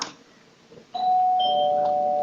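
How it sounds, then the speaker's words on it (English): A single electronic doorbell chimes, its tone ringing out and sustaining in a quiet room. "That was the doorbell."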